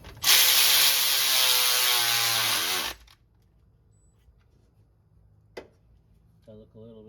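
A powered ratchet drives home the last pulley bolt on a Honda Civic with a K-series engine swap: one loud, buzzing whir lasting about three seconds, stopping abruptly, followed by a sharp click and then a brief voice.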